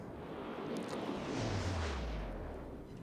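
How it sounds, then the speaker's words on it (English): Warship shells fire and land in a World of Warships naval battle, heard as a low, rolling boom that swells and fades across the moment, muffled and distant with no voices. "The shells are in the air."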